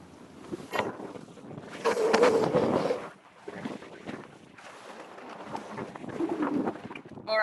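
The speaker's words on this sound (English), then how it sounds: "You can see how windy it is here" Strong wind buffets the microphone at the finish line of a yacht race, the Rolex Sydney Hobart 2022 in Hobart, with gusty roaring bursts and water noise rising and falling throughout.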